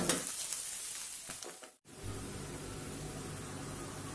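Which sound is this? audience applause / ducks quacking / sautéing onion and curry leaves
sautéing onion and curry leaves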